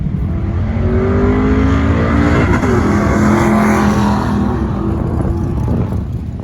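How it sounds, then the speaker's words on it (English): A loud, close car engine held high and bouncing hard against the rev limiter, a rapid stuttering roar that barely lets up. "it is pounding the limiter"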